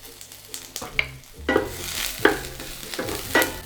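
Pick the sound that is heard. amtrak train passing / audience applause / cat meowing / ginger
ginger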